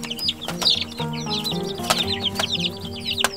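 Meat-and-egg chickens, including Spanish, naked-neck and Master Gray breeds, cluck steadily in a busy, close flock with overlapping chirpy calls and scratchy movement throughout.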